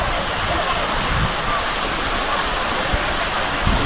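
Waterfall spray near Mysore in Karnataka, a steady, dense roar of falling and splashing water filling the whole clip at an even, close level with no pauses.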